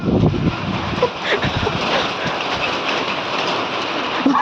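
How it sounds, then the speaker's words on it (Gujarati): Steady, dense rain pours down in a constant broadband hiss, loud and close, with faint voices and movement mixed underneath. "વરસાદ ફૂલ આવી ગયો છે"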